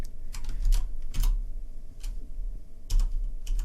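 Computer keyboard typing code, a quick run of crisp key clicks in short bursts with brief pauses, close and fairly loud, no talking.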